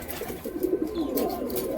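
Pigeons, kept flying birds of the Kaldama Kalanka type, coo softly and steadily through a short stretch, with low warbling calls close by and no talking.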